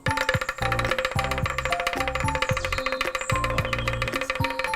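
Hollow wooden-sounding tones from a traditional Maluku bamboo instrument, struck in a quick melodic pattern with ringing pitched notes, played alone and fairly close.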